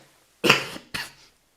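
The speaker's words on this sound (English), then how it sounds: "this cough is killing me" Two harsh coughs close together, the first stronger and longer, the second shorter, with brief silence before and after.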